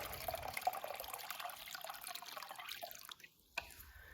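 Water pours and trickles into a chicken waterer, the hiss of filling rising in pitch as it fills, then a brief pause and a small splash.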